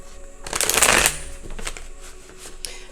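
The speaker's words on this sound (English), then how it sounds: "These are literally the same cards that I'm going to keep on shuffling." A deck of cards riffle-shuffled nearby, a dense rapid flutter building and then giving way to lighter handling taps, with no voices.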